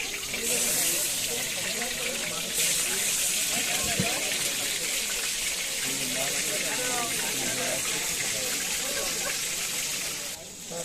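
Crab frying in a wok gives a steady, dense sizzling hiss that runs unbroken for the whole stretch, with faint voices murmuring underneath.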